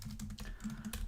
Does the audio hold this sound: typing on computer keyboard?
yes